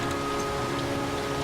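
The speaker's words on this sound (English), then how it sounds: "since it is raining." Steady, dense video game rain patters continuously at an even level, with a faint constant hum underneath and no talking.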